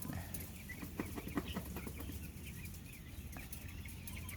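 Chickens cluck and murmur faintly amid a steady fan-like hum, with a few scattered clucks standing out early on.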